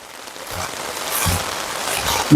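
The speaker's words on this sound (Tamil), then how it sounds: "திருப்பி மழை பேய் கொட்டு கொட்டுது" Heavy rain pours steadily during flooding on a street in Jaffna, a dense, continuous hiss with a few low thumps of splashing water.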